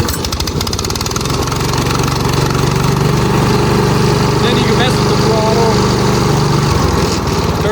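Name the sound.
SDLOOL 750 remote control lawnmower engine pull started, idling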